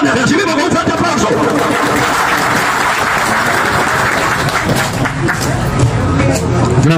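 Loud, sustained applause from a large audience at a swearing-in ceremony, welcoming an engineer from the Fuerza del Pueblo party, dense and continuous with crowd voices mixed in.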